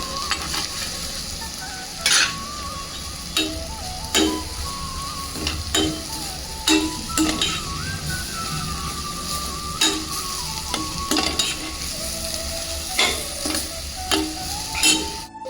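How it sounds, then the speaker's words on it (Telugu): Onions fry in hot oil with turmeric, salt and ginger-garlic paste, a steady close sizzle under repeated clinks and scrapes of a spoon stirring the pan. "ఈ ఆయిల్లో ఇప్పుడు మనం ఉల్లిగడ్డ వేసుకుందాం ఓకే ఇప్పుడు ఇందులో మనం పసుపు ఉప్పు అండ్ అల్లం వెల్లుల్లి పేస్ట్ వేసేసుకుందాం"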